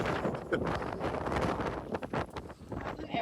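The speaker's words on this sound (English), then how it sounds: "I don't think I've felt wind like this outside of a hurricane." Strong Patagonian wind on the Torres del Paine trek roars and buffets the microphone in loud, gusting rushes, continuous and close, with no clear talking.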